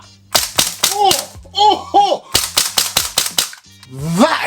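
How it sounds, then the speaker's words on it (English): A Tokyo Marui Desert Eagle airsoft pistol fires on green gas, a series of sharp close cracks in irregular bursts, with a voice speaking briefly between shots. "I put a bit of green gas in there just to feel it even harder kicking when I fire this"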